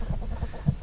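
Backyard chickens, including a Silver Lace Wyandotte, a barred rock and an Americana rooster, cluck softly in their coop, low short murmuring notes in quick succession, close by and brief.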